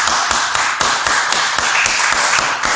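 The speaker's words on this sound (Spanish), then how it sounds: "vamos a darle un fuerte aplauso a Cristo" Church congregation clapping, close and loud, with distinct sharp hand claps falling in a rough rhythmic beat over a continuous wash of many hands, no talking over it.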